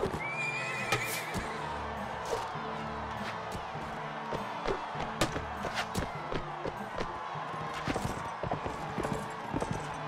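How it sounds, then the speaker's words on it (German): Horses in Mount and Blade: Warband battle, with a clear neigh early on over repeated hoof clip-clops, thuds and weapon clashes filling a busy battlefield mix. "Okay, das arme Pferd niedergestreckt."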